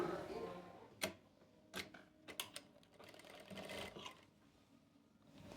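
A sewing machine stitches the fitting seams of an Anarkali dress, running quietly with sharp intermittent clicks and short bursts of needle motion, close and faint.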